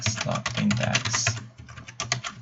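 Rapid typing on a computer keyboard, a steady run of close, crisp key clicks with slight pauses in the rhythm and no voices over it.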